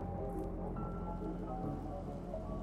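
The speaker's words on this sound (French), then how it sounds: "Pourquoi il pleut d'un coup?" Sudden rainfall in a Minecraft horror mod, a steady soft patter of rain on surfaces filling the scene with no talking.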